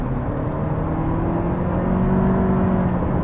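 A 2023 Toyota Prius Prime hybrid, with two electric motors and an engine, accelerates at full throttle. Its steady whirring engine note climbs gradually in pitch, loud and continuous from inside the car, with no talk.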